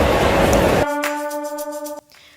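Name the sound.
Sentosa monorail train arriving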